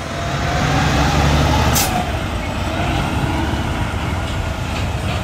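A heavy vehicle rumbles steadily past, close and loud, with a brief hiss like an air brake early on and a long low drone after.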